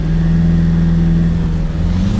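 A Dodge Hornet SUV launches hard from a standstill in sport mode for a 0-60 run, giving a steady loud engine drone with a low rumble heard from inside the cabin, unbroken and without talk.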